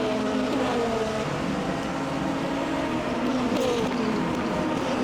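An LMP2 prototype race car accelerating out of a corner at Sebring, its engine droning steadily and loudly throughout with rising pitch as it gets on the power.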